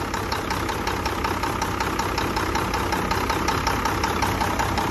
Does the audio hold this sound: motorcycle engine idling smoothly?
yes